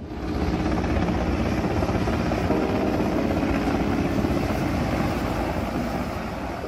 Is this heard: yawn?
no